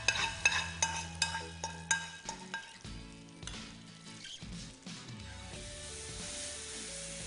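Makhni tadka, butter-based tempering with red chilli, sizzling in a hot pan: a steady loud frying hiss with crackles and spits, overlaid by brief metallic clinks and tones, with no voices.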